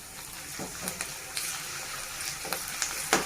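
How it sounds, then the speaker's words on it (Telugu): Ginger garlic paste and curry leaves frying in a hot pan, a steady loud sizzle with occasional crackles and spatters and soft stirring scrapes, no talking. "పచ్చివాసన పోయినంత వరకు ఫ్రై చేసుకోవాలండి."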